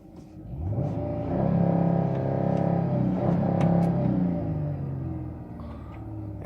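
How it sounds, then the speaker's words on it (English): Deep, rumbling revs from the V6 of a 2005 Dodge Magnum STX rise and fall in a couple of sustained pulls, close by and steady, with no speech over them. "Listen to this V6."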